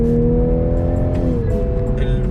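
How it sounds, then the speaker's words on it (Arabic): A 2021 Toyota Supra GR 3.0 engine drones loudly under acceleration, its tone shifting midway, with short airy hisses like turbo whooshes over the top. "التربو بيلد اللي هو اعلى صوت اشوفه على العربيه ستوك"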